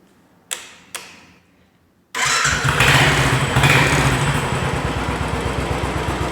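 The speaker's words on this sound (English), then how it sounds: "The engine is running" A Royal Enfield motorcycle, just back in working order after a main fuse replacement, gives two sharp clicks, then its engine catches and runs at a loud, close, steady idle with an even thumping beat.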